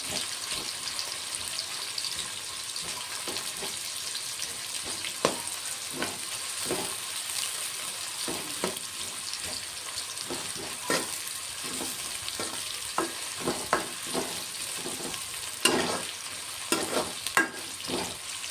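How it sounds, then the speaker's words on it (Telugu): Onions frying in oil in a pan for chicken biryani, with a steady close hiss of sizzling broken by frequent scraping clicks of a spatula stirring, no talk. "ఉల్లిగడ్డలు అయితే ఇదిగోండి కొంచెం ఫ్రై అయినాయి ఇంకా కొంచెం ఫ్రై అవ్వాలి ఇవి"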